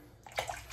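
Water sloshing and splashing as shaving cream is rinsed off a face, a short close burst of running and splashed water in a quiet bathroom, with no talking.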